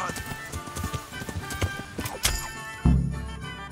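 Horse in Kingdom Come: Deliverance, hooves clip-clopping in a close, steady rhythm, then a loud, sudden neigh that trails off near the end, with no voices.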